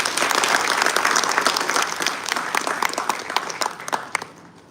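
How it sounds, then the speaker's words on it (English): A large audience applauds at a live university ceremony for Kargil Vijay Divas at Rashtriya Raksha University, India, with dense, steady clapping that thins into a few scattered claps at the end. "Let's give a round of applause for the fantastic video."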